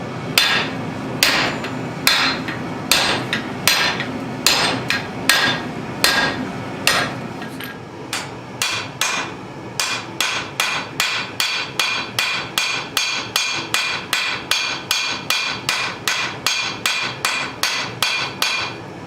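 Hammer blows forge a harpoon bowie knife blade, loud ringing metallic strikes in irregular bursts at first, then a fast, steady rhythm of evenly spaced blows, close and with no voices.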